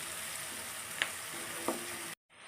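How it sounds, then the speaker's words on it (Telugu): Onions frying in oil in a pan for a tomato and broad bean curry, a steady close hiss of sizzling with a couple of faint clinks, then a sudden drop to near silence at the end. "లైట్గా జస్ట్ బాగా వేగుతాయి"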